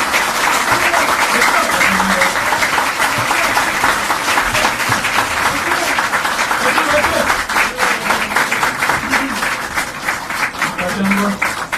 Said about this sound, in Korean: 다시 한번 박정훈 위원장께 뜨거운 박수 부탁드립니다.